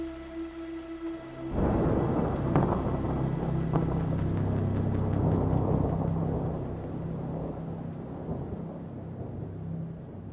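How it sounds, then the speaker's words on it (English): A rainstorm in the Hollowbody video game: after a quiet tonal hum, heavy rain bursts in and keeps pounding steadily, with rolling thunder rumbling underneath throughout. "rain pounding on the cracked windshield of my hover"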